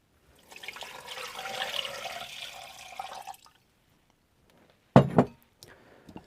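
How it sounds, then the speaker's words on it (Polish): Water poured into a blender over peeled coconut for a breakfast smoothie: a steady splashing pour of about three seconds, then a pause and a hard clunk of the jug. "i zalewamy wodą"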